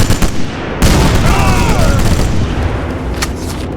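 A panzerschreck rocket launcher fires and its round explodes in the World War II shooter game Sniper Elite, a loud, sudden blast followed by a heavy, rumbling decay and a few sharper cracks.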